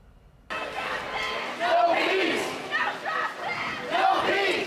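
A large crowd of protesters marching through city blocks, a dense roar of many voices with shouted chants and calls rising and falling, fairly close and loud throughout.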